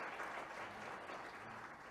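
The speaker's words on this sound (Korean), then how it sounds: "여러분 이 세 분께 큰 박수 부탁드립니다" An audience at a public diplomacy forum applauds three speakers, a continuous, even wash of clapping heard faintly and at some distance, with no voices over it.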